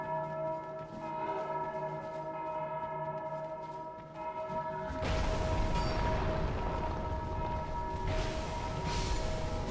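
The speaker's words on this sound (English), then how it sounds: "Just wanted to hear the bells." Church bells toll in the Dark Souls 2 video game, a sustained, resonant ringing that swells into a loud, dense wash of overlapping peals with a low rumble beneath, and no speech over it.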